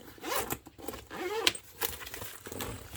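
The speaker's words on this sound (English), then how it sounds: "double zipper" Zippers on a canvas range bag being opened, a few quick ripping zips in short bursts with light rattling of the pulls, close and crisp.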